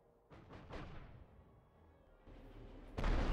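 A few heavy booming artillery blasts in the game The Great War: Western Front, spaced apart, with a sharp loud burst at the end.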